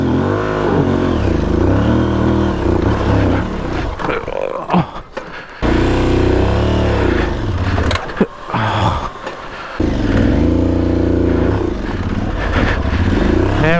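Rough, close engine note from an Aprilia Tuareg 660 adventure motorcycle ridden enduro-style, revving up and easing off in uneven bursts, with brief drops where the throttle closes and no talking.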